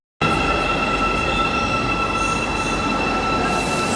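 A metro train in Kazakhstan runs steadily, wheels rumbling and squealing on the rails in a loud, continuous roar with a high ringing tone held throughout.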